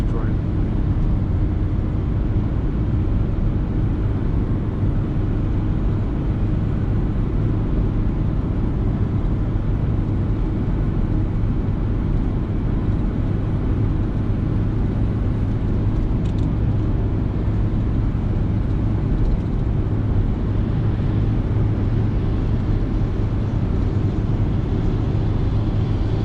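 A Renault Clio driving on a highway at night between Ploiesti and Bucharest, with a steady, loud, continuous engine and road rumble from inside the car throughout.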